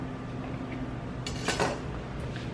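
A knife slices down the center of a tortilla on a cutting board, giving a brief cluster of crisp scraping and tapping contacts midway through, close and moderately loud over a steady low room hum with no talk.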